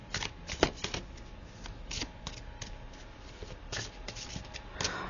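Oracle cards shuffled by hand for a reading, a close, continuous papery riffling and slapping in uneven bursts, fairly soft, with no talk over it.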